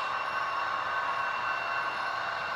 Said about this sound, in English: The Santa Fe engine's pulling the train.